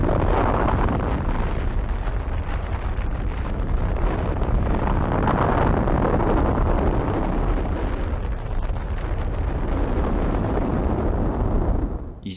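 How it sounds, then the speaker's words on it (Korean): The first nuclear explosion, the Trinity test, fired a roughly 20-kiloton bomb from a 30 m steel tower. It comes across as a loud, continuous roaring rumble that swells and churns for the full length before cutting off abruptly. "최초의 핵폭발이 일어났습니다"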